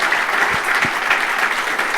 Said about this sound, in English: Let's give him a round of applause before we open up for questions here.